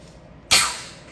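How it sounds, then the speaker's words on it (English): A sudden sharp hiss bursts in and then tapers off over about half a second as vacuum releases when an AC refrigerant line is pulled off a 2011-2016 BMW F10 535i condenser. "That was the sound of the vacuum"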